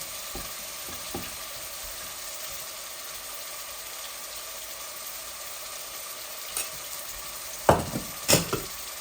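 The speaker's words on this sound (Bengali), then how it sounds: "এই যে ব্লেন্ড করা পেঁয়াজ আমি দিচ্ছি জলদি হয়ে যাবে বলে" Blended onion fries in a pan with a steady, close sizzle. A few scraping stirs and clatters cut in near the end, with no talking.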